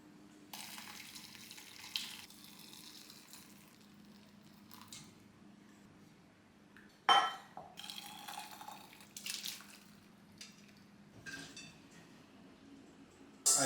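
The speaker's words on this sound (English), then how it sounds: "now it's time to strain the broth." Boiled meat broth is strained, with liquid splashing and pouring in quiet bursts, separated by soft clinks and short pauses.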